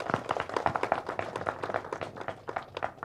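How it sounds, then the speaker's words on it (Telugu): An audience at a film teaser launch event claps, a dense run of quick, irregular hand claps that stays fairly even and moderately loud, with a faint hint of voices underneath. "ఒకసారి గట్టిగా చప్పట్లు కొట్టాలి"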